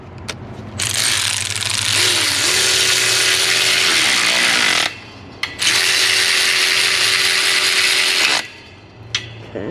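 A ratchet drives bolts into an EGR cooler on a 6.7 Cummins diesel engine, giving loud, close, continuous clicking in two long bursts separated by brief pauses.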